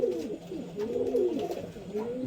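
A red female pigeon flutters and shakes its wings in hand while pigeons coo low and steadily in the background, with some voice nearby.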